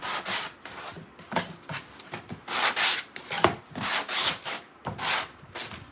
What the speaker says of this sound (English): So now I'm gonna sand it, and it's gonna take a lot of that hardness of the wood out